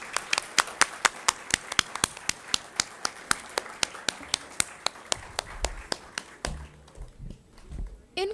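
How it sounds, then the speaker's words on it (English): A few audience members clapping at a policy debate event at Government Law College, Mumbai: sparse, sharp, fairly regular claps that thin out and stop, followed by faint room murmur and handling noise. "Please join me in another round of applause to celebrate this occasion."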